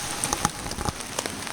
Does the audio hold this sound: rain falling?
yes